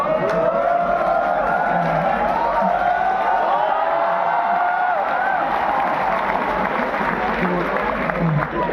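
Large college audience cheering and clapping in a hall, a steady dense roar of crowd noise and applause with whoops, continuous and loud throughout.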